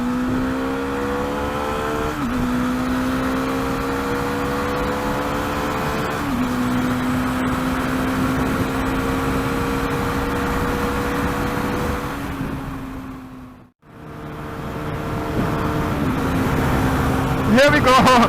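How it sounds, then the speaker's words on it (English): A Bajaj Dominar 400 motorcycle engine drones steadily at top speed on a highway, a high sustained tone with a few shifts in pitch, loud wind rush all around and a brief dip near the end before the roar returns. "this motorcycle is kind of slowing down after about 145 kilometers an hour"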